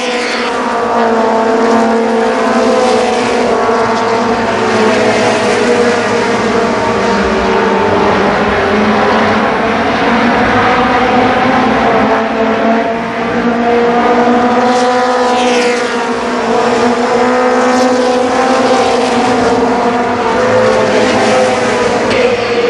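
Race cars roar continuously around Columbus Motor Speedway, a loud sustained engine drone with rising and falling pitch as cars pass, steady throughout with no talk.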